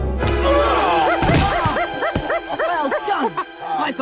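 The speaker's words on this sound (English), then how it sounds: "Get the dog away from me!" A dog yelps and whimpers in a string of short, high, rising cries after a loud bark-like burst, close and prominent, in a dramatized Tintin audio story.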